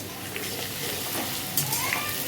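Fennel seeds sizzle in hot oil in a pan where potatoes are frying, a steady crackling hiss throughout with a faint stir or clink near the end.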